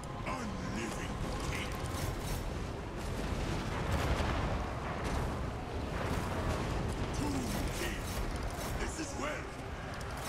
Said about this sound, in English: the flame cannons are actually doing quite a lot of damage to their own units here